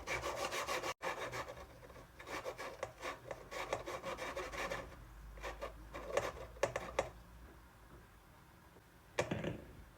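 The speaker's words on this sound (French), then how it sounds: "Et pour la finition, on vient râper les bords." Edges of baked, crumbly Tunisian zouza shortbread being grated, a dry scraping rasp in quick repeated strokes that pauses and then returns briefly near the end.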